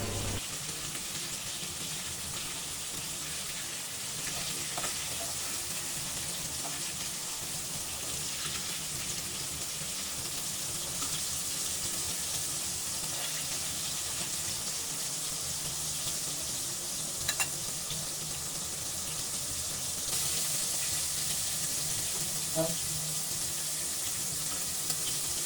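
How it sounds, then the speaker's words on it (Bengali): Pieces of ash gourd fry under a lid in a covered pan, giving a steady, even sizzle with soft crackle and small pops that continues unbroken and close for the whole stretch, no voices. "তো আমি ঢেকে ঢেকে ভেজে নিচ্ছিলাম। একটু লালচে লালচে করে ভেজে নেব।"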